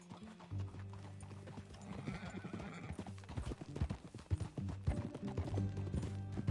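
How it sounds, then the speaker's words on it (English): A horse in the Red Dead Redemption western video game clip-clops along at a steady trot, the hooves close and rhythmic over a low music bed, with a whinny mixed in. "That a new horse?"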